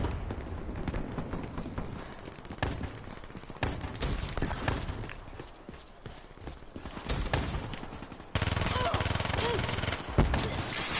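Video game gunfire comes in bursts over a busy, noisy mix of action sounds, with a few sharp cracks standing out and constant loud clatter throughout.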